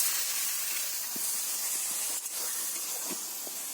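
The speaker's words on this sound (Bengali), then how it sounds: "আর যে নারকোলটা আমি পেস্ট করেছি এই নারকোলটা আমি এর মধ্যে দিয়ে দিচ্ছি।" Coconut paste going into hot ghee in a wok, made for coconut sandesh, gives a steady, close hiss of frying with a few faint scraping clicks. No one speaks.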